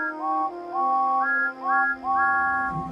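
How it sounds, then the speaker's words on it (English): Steam engines Thomas and James sound their whistles as loudly as they can, a run of overlapping bright whistle tones rising and falling in several blasts, close and loud with no talk. "sounded their whistles as loudly as they could"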